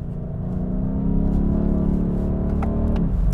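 A BMW 8 Series V8 engine revs and rumbles with a deep, throaty tone, rising in pitch, close and loud throughout.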